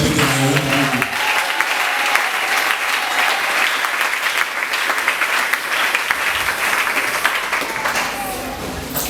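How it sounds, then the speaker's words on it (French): Church congregation at a Sunday worship service applauding and cheering in praise of the Lord, a dense, loud wash of clapping and voices sustained throughout, with a brief spoken phrase at the very start. "Si ces gens-là sont là, ils acclament l'Éternel."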